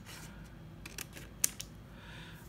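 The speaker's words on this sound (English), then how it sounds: "I'm cheating and just doing it with my scissors" Quiet, crisp scissor snips cut through paper up close, a few scattered clicks with one sharper cut in the middle.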